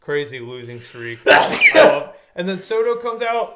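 A single loud sneeze bursts out mid-conversation, sharp and close, framed by people talking before and after it.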